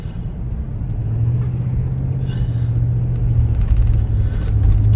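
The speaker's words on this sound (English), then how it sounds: "It's very loud, but it sounds like the clutch might be slipping a little." A car's engine strains to get moving again after a roadside police stop, with the clutch slipping. A loud, steady low rumble builds gradually, with no talking over it.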